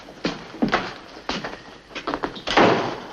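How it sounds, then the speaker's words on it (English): A door in an army orderly room in a 1952 Western is pushed shut, heard as several knocking thuds and a firmer closing bump near the end, close and fairly loud with no talk. "Shut the door."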